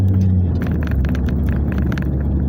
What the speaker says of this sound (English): I think there is a little bit of clutch chatter